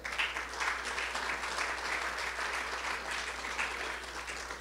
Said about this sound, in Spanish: Le damos un fuerte aplauso a eso.